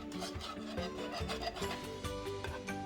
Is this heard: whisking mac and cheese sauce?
yes